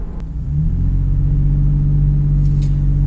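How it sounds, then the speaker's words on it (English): A deep, rich engine note from a Toyota 4Runner TRD with a cold air intake holds steady and loud from close by under acceleration, building briefly at the start with no voices present. "It's that deep, really rich note that you're getting out of the accelerator."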